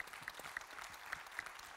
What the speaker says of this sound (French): On va déjà vous applaudir, comme ça on peut vous libérer.